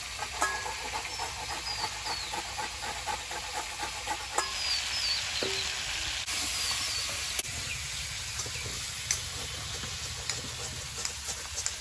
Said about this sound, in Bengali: আদা আর রসুন ফোড়নে পুরে নেবো